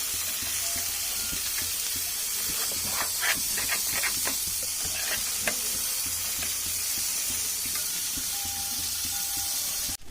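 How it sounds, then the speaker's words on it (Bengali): Fish and spices sizzle steadily in a hot pan while being stirred, with a constant frying hiss and scattered scraping clicks from the stirring. "এবার আমি মাছ আর সবই দিয়ে দিচ্ছি একবারের মধ্যে। সামান্য একটু নাড়াচাড়া করে"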